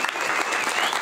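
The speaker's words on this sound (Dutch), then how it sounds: "Geef ze een hartelijk applaus." An audience at an evening event in the Netherlands gives warm, steady applause after a music performance, a dense patter of many hands clapping throughout.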